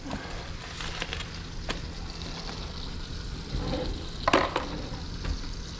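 Beef tenderloin sizzles steadily in a hot pan, a constant frying hiss with a few brief clinks and scrapes, heard close with no talking.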